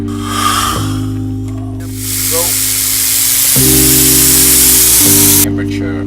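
A car steam cleaner's loud steady hiss of steam rushes for several seconds over a low humming machine drone, close by, then cuts off.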